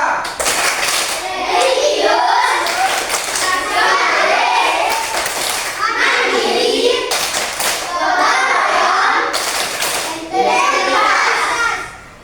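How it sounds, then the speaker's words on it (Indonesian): A group of children and adults performs the rhythmic Tepuk PPK clapping routine, sharp patterned bursts of hand claps in repeating phrases with chanted voices between them, ending with a final quiet fade. "Tepuk PPK."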